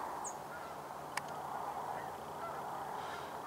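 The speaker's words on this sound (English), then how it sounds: "Oh yes, there are ducks over here." Ducks calling near a river, a few faint honking quacks from some distance over a steady broadband outdoor hiss, no talking.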